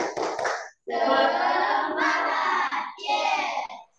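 A classroom group of children clapping hands together in bursts, loud and close, with short pauses between rhythmic clapping segments and voices shouting along.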